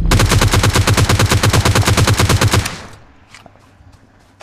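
Rapid automatic gunfire in PUBG Mobile, a steady burst of loud, evenly spaced shots lasting about two and a half seconds, then a quieter tail with faint scattered sounds and one more sharp shot at the very end.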